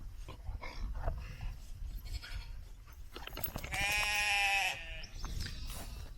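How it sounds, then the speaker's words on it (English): On a smallholding, a lively dog yelps and pants amid a flock of sheep, followed by a sustained, strained bleat that rises above the shuffling background noise. "a mad dog,"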